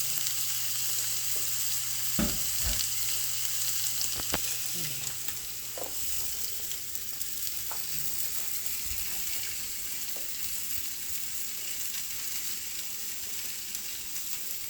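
Food frying in a cast iron pot, a steady broad sizzle with occasional clinks and knocks of stirring, close and even throughout with no voices.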